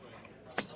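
Car keys give a brief bright jingle as they are handed over, heard near the end after a stretch of muted room noise.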